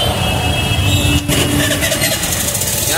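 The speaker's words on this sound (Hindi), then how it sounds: "यहाँ पे ऑटो वगैरह सब फंसे हुए हैं नोवेल्टी के बीच में, काफ़ी ज़्यादा ट्रैफिक है यहाँ पे" Heavy street traffic with auto-rickshaws jammed in Novelty market at night: a loud continuous wash of engines idling and revving, with a sharp transient near the middle.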